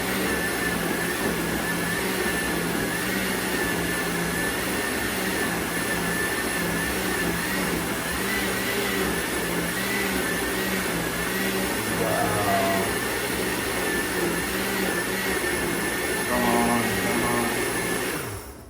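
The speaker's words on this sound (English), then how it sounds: "And this takes no time to blend. Quick, and it's ready." A blender runs continuously while blending juice, a loud steady whirring drone that holds unbroken for nearly twenty seconds with no talking.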